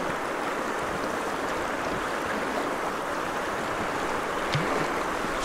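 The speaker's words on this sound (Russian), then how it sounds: "Тут 5 потоков сходится." River current rushing at a spot where five streams converge on a shallow stretch with round pebbles on the bed, a steady broad wash of flowing water close by, continuous and unbroken.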